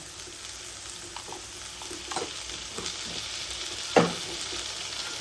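Garlic and ginger paste sizzles in hot oil in a pan, a steady hiss with intermittent stirring scrapes and one louder clack of the spoon against the pan near the end, and no speech.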